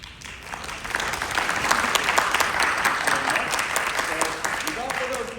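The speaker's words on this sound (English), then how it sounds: "please give them a big round of applause" Audience applauding student presenters at a student forum, a sustained wash of clapping from a room full of people that swells and holds for several seconds.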